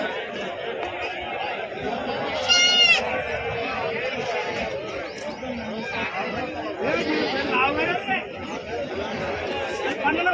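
Goats bleat a few times at Pebbeir livestock market, where big goats are sold. The calls are partly buried under constant crowd chatter and nearby talk.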